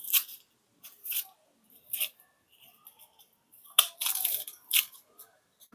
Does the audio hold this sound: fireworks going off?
no